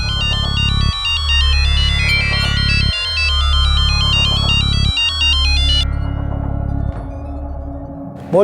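A mobile phone ringtone rings loudly and alone in repeated bursts of a bright electronic melody, about four cycles roughly two seconds apart, stopping near the end.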